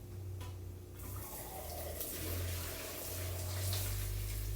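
Chicken stock pours out of a crock in a soft, continuous liquid stream with light splashing, heard close over a low background hum.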